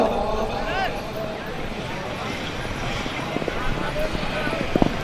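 Horses gallop during a neza bazi tent-pegging event in Gujrat, their hooves drumming quickly beneath a loud announcer's voice and crowd din, with an outdoor rumble running under it all.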